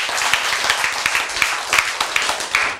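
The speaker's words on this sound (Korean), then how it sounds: "박수." An audience claps together at a Korean lecture on healthy eating, a dense burst of close applause with sharp individual claps rising and falling throughout.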